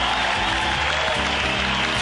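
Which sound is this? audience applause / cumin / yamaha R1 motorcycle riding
audience applause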